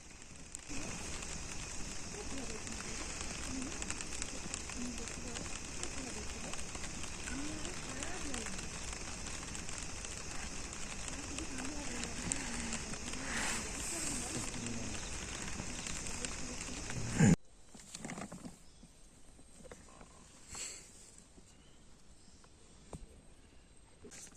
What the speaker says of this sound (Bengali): চুপচাপ থাকলে আওয়াজটা শুনতে পাবেন। আমরাও চুপ থাকছি, বাইরে বৃষ্টি পড়ছে।